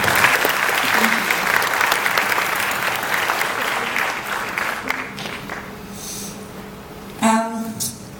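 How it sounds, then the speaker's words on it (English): Audience applause at a high school graduation ceremony, a dense wash of clapping from a large crowd that gradually thins and fades, followed by a brief breathy noise near the microphone. "today we applaud this village"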